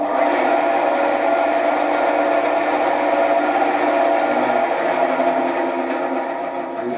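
A bandsaw fitted with new blades cuts a block of olive wood into knife handle scales, giving a loud, steady whine that runs without a break and eases slightly toward the end, with no talking.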